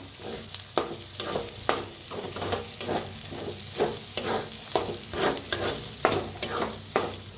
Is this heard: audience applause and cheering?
no